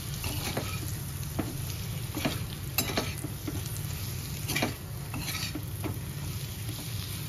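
Bitter gourd sautés in a kadhai with a quiet, steady sizzle, punctuated by repeated sharp scrapes and clinks of a spatula against the pan.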